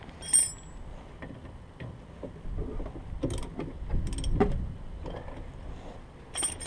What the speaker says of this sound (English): I'll span it and I'll ratchet on it.